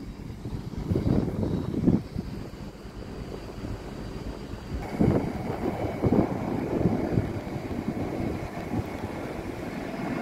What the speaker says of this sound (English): There's another aeroplane.